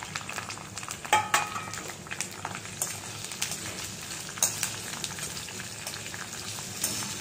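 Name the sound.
capsicum shallow frying in oil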